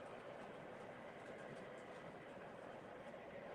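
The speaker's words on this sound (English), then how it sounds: "That's an Erie Lackawanna passing right now, and a Penske. Those are GP35s." An Erie Lackawanna freight train hauled by GP35 locomotives rolls past with a steady, dense rumble and faint rhythmic wheel clatter, loud and continuous, with no voices.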